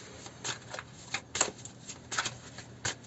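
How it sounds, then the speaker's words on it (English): Tarot cards are shuffled by hand in a quick series of crisp riffling bursts, about seven short rustles at an irregular rhythm, close and fairly quiet. "I'm shuffling and shuffling and nothing much is happening."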